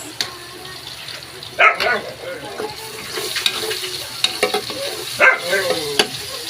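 Pepper and sautéing mix sizzle in a hot pan while a spoon stirs and scrapes, with a few louder bursts of clatter over the steady frying hiss, heard up close.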